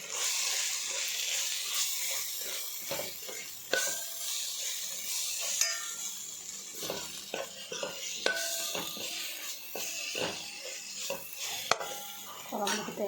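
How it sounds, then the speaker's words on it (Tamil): A spoon stirs ginger-garlic paste, chili and coriander powder into mutton curry in a cooking pot, giving repeated soft scraping and clinking strokes over a quiet sizzle, fairly faint and close. "எல்லாம் போட்டு நல்லா கிளறி விடணும்."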